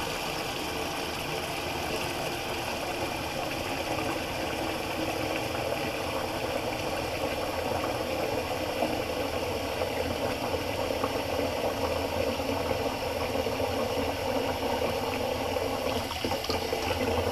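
Tap water runs steadily into a bathroom sink as it is refilled during a wet shave, a continuous broadband rush holding at an even level throughout, close by and with no talking.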